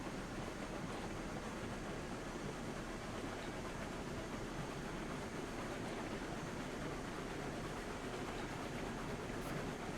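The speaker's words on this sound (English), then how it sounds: "Need to get this train back down the mountain, get back over to the sawmill." Log train in the railroad simulation game Railroads Online rolls downhill toward a sawmill, a steady quiet rumble with faint rhythmic clatter and hiss throughout.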